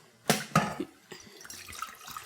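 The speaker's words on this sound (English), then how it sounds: "I'm just going to start by transferring some water into the pot" Water is poured into a cooking pot to be boiled for rice: two sharp splashing gulps open the pour, followed by softer, uneven trickling and sloshing, close by and moderately quiet.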